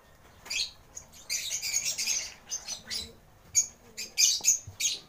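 Handfed baby birds chirp in a busy, faint chorus of high, rapid tweets and squeaks, rising in clusters of bursts toward the end, with no talking.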